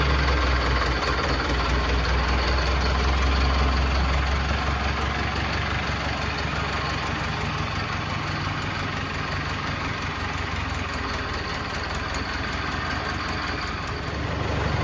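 A tractor engine idles steadily and continuously throughout, a loud, even low rumble with no talk over it.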